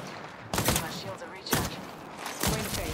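Gunfire in the video game Apex Legends: three loud, sharp bursts about a second apart stand out over a steady game background, with voices faintly underneath.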